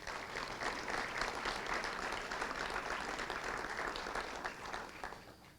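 Soft, steady applause from a ceremony audience at a school hall of fame and years-of-service event, dense clapping held evenly before tapering slightly at the end.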